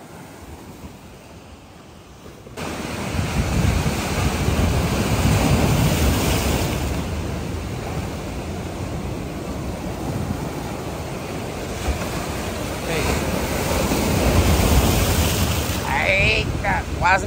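High-tide waves break on Boa Viagem beach in Recife as a broad, steady surf roar mixed with gusty wind buffeting, swelling louder around the middle and again near the end.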